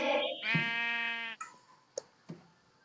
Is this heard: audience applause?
no